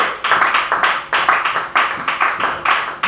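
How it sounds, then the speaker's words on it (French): A church congregation claps in rhythm for the Lord at a revival seminar, loud, close and steady hand claps in quick repeated bursts with no talking over them. "Acclamons pour le Seigneur."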